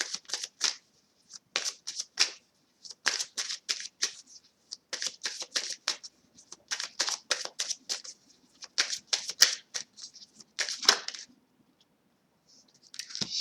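A tarot deck being shuffled by hand, a near and fairly soft riffling patter that comes in repeated bursts with brief pauses between them, then a short quiet gap before it resumes, with no talking.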